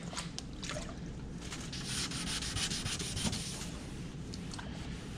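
Steady rhythmic rubbing as an Audi body panel is hand-sanded during paint prep, with back-and-forth strokes close and continuous for several seconds.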